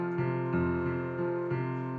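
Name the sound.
piano left-hand bass line played as arpeggio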